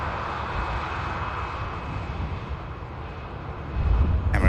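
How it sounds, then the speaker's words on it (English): An Emirates Airbus A380 taxis at Manchester Airport, its jet engines a steady, moderately loud roar heard from a distance, swelling slightly toward the end, with no talk. "Emirates A380"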